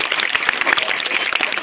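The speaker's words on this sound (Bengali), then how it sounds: "একটা জোরে করতালি।" A school audience gives loud, close, continuous applause at a ceremony honouring a former student selected for a border security force job. The clapping is dense and steady throughout this short burst.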